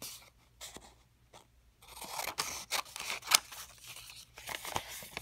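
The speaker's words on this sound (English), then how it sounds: "fold it in half like this, and cut this flap off," Scissors cut through folded paper to make a small paper snowflake, giving close, crisp snipping and crunching sounds in short irregular bursts with light paper rustling between cuts.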